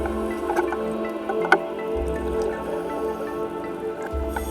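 Rain falling on the sea surface, heard from underwater during a drift scuba dive off Palm Beach, Florida, makes a soft continuous patter with scattered drips and small pops.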